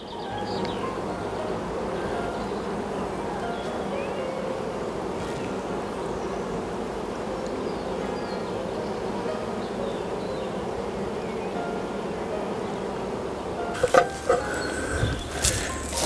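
Honeybees fly around the front of a nuc hive during a spring inspection, a steady buzzing drone held fairly close, with a few sharp clicks and knocks near the end.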